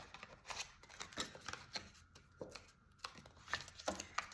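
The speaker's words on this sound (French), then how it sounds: "J'écrase bien mon papier." Quiet, irregular crinkling and crunching of paper being pressed and crushed, in short bursts with brief pauses.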